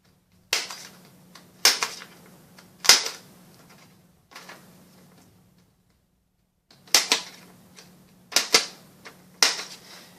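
A handheld paper hole punch snaps through paper pages in a series of sharp, loud clicks. They come in small clusters with short silent gaps between.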